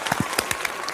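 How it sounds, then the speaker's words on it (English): A short burst of scattered hand claps from a small group in a podcast studio, a handful of close, uneven slaps lasting under a second. "You're getting another round of applause."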